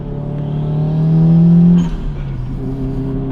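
A Subaru Impreza with the blobeye front accelerates, its engine note climbing loud and steady for about two seconds before easing off and settling into a lower drone.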